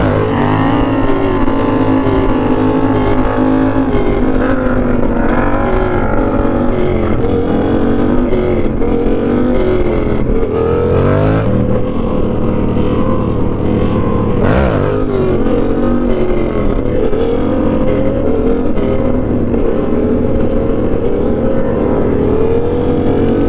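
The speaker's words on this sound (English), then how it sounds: "The grom is so loud." A Honda Grom motorcycle engine roars loudly and continuously, revving up and down with shifting pitch through the whole stretch, with a couple of sharper bumps along the way.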